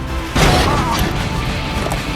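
A chain of explosions rips through a construction site in a Fast & Furious film, with a loud, sudden blast that rolls into a sustained roar of debris and rumble, close and dense, and a voice faintly beneath it.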